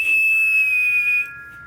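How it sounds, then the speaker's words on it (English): Thomas the toy engine sounds his new whistle, a loud sustained high shrill tone that holds steady for over a second, then drops to a fainter lingering pitch as it tails off. "So he blew his new whistle loudly"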